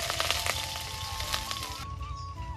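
Chopped onion and whole garlic cloves frying in a pan give a soft, steady crackle at low level, with a faint tonal hum running through it and a slight drop in the noise partway through.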